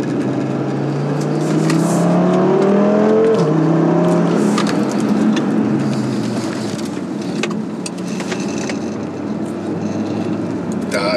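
A 560 PS Audi RS3 accelerates hard, its engine note sweeping up through the gears with brief dips at each shift, loud and continuous from the cabin.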